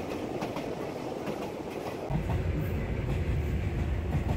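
A train in Thailand rumbles steadily along winding mountain tracks with a rhythmic clatter, growing louder and heavier about halfway through; no voices.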